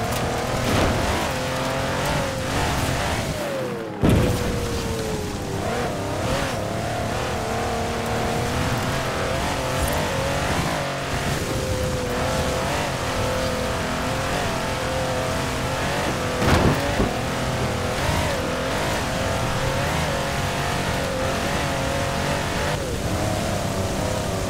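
A six-wheeled 6x6 truck with a 5.5-litre twin-turbo V8 drives hard in Forza Horizon 4, its engine droning loudly and steadily with rising revs and tyre noise, briefly cutting out near the start before roaring on without pause.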